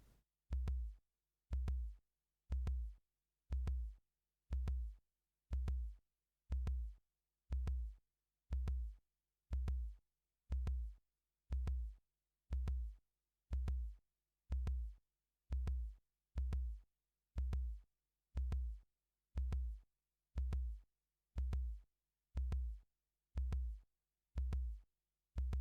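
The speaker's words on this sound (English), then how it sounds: "Lowered your heartbeat a bit." A dungeon crawler video game plays a heartbeat effect: deep, steady low thumps repeating at a slow even pace for the whole stretch, isolated and without any voices.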